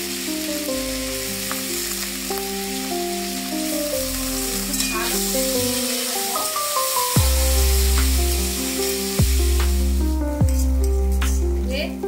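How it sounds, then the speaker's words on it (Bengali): Rice mixed with cashews and raisins fries in a pan while being stirred, a continuous close sizzle with occasional scraping, heard beneath prominent background music. "একটু নাড়তে নাড়তে আমি চালগুলো দিয়ে দেবো।"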